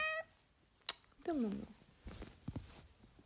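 A house cat gives a short meow and then a longer, falling meow, close by, while a voice speaks briefly nearby amid quiet room sounds.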